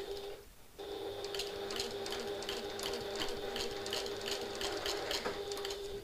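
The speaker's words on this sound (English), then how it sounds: "we are going to start sewing at our 3/8 of an inch seam allowance" A sewing machine stitches the lining seam of a classic handbag at a steady, rapid mechanical rhythm, running continuously and close after a brief pause near the start.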